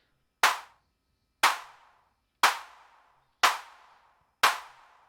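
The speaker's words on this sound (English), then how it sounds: "Alright, so the clap has a reverb on it and a spread." Five evenly spaced claps from a Weston Precision Audio AD110 analog drum synthesizer, with reverb and spread at minimum, each a crisp close hit trailing off into a smooth reverb tail, alone with no voices.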